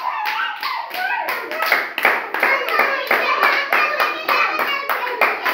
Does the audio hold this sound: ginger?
no